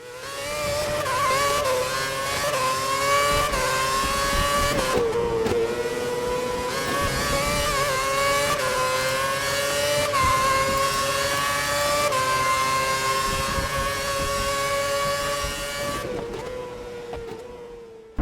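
A taxi car on a ride-hailing run pulls away and drives through Kyiv, its engine droning steadily with rising and falling tone under continuous road noise for the whole stretch, with no talking.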